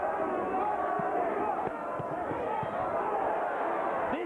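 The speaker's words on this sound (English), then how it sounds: "Crowd trying to pick Arturo up." A boxing crowd at the Arturo Gatti vs Wilson Rodriguez fight swells to lift Gatti, a steady roar of cheering with scattered thumps and shouts running under it throughout.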